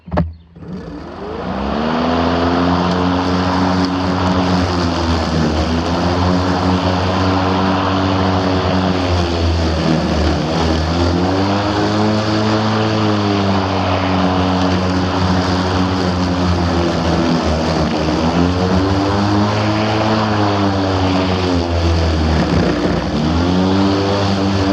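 A loud, close EGO LM2101 21-inch 56-volt battery lawn mower drones continuously in tall grass, its pitch repeatedly sagging and recovering as it strains and bogs down.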